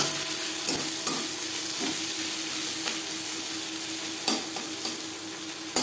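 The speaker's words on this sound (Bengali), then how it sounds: "কাঁচা লঙ্কার সাথে পেঁয়াজ নাড়াচাড়া করে নেওয়ার পর" Steady frying sizzle with a hissing wash, broken by several scraping stirs of a utensil against the pan at irregular intervals.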